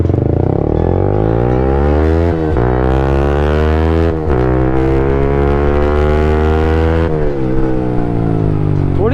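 A Yamaha MT 15 motorcycle engine runs loud and close, its pitch rising and falling through repeated revs with short dips between them, sounding a little sluggish and held back.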